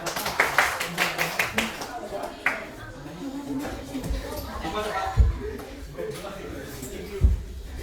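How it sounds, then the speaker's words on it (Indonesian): A group of people clap in a classroom session, giving a quick rhythmic burst of claps at the start that soon trails off into murmured chatter, shuffling and scattered knocks, with voices talking underneath. "Tepuk tangan semuanya."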